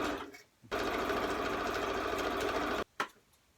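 A sewing machine stitches a fabric envelope cushion cover in one steady, rapid run of about two seconds, then stops, followed by a short second burst, close and clear with no talk.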